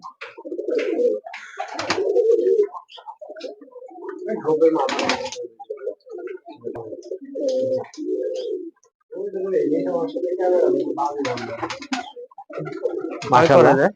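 Giribaz pigeons coo repeatedly up close, low throaty calls overlapping, with occasional wing flutters and scuffling between them.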